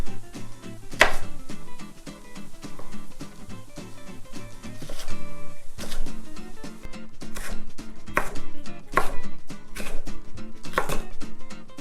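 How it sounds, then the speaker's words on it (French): A knife cuts bell peppers into thin strips on a board, a run of sharp, close chops, some quick and clustered and others spaced out, with no talk. "On va couper en fines lamelles"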